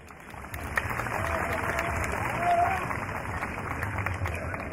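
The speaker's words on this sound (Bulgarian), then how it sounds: "Вашите аплодисменти са музикалното оформление." Audience applause at a Thracian folk music concert honouring a musician, a dense, even roar of many hands, mid-distance and fairly loud, swelling slightly near the middle.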